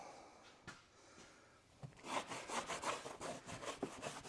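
A greasy rag rubs down a surface on a lifted Ford Escape build, starting with a few soft scuffs, then a close, steady back-and-forth scrubbing rhythm.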